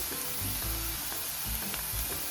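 An onion garlic masala fries and browns slowly in a pan, a loud, continuous close sizzle with faint scraping stirs and no voices.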